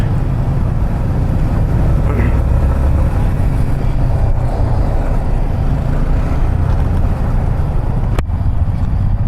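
Highway traffic near Moinabad outside Hyderabad heard from a moving motorcycle, a dense steady rumble of engines and wind roar with vehicles passing close.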